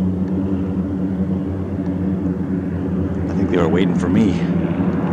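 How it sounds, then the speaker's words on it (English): Airplane taking off or landing at a runway beside a lake, a steady low droning rumble that swells slightly near the end while someone speaks briefly over it. "paddle fast or you'll get hit by a plane taking off or landing"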